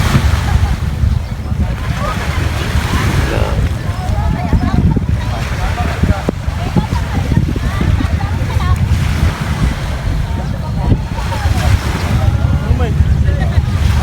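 Fishing boat arriving at a seaside shore, with constant loud surf and wind buffeting the microphone, waves washing in and out while people talk nearby.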